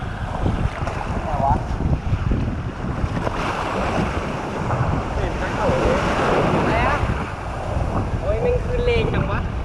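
Strong surf pounds the shore at Bangsaen beach, a dense, continuous roar of breaking waves mixed with gusty wind buffeting the microphone, while voices chatter faintly in the background.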